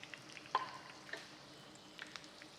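Chicken katsu frying in hot oil, a soft, even sizzle with a few faint pops and crackles, close but fairly quiet, no voices.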